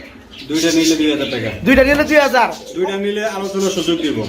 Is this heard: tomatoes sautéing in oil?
no